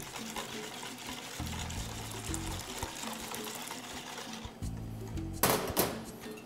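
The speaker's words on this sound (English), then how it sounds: "Going to take the hot cream and slowly pour it in." Hot cream poured slowly into eggs while a whisk stirs, for coconut crème brûlée; a soft continuous liquid stream runs through the clip under low hum, with a louder splashy burst near the end.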